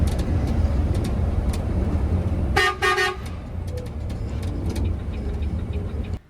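Busy highway traffic with cars and trucks from many states passing in a continuous roar, while a vehicle horn blares in a short double toot midway through; no voices.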